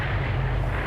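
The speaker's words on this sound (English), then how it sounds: "plane is flying overhead." Airplane passing overhead in the online shooter Vigor, a steady low droning rumble that fills the short moment evenly, moderately loud with no talking.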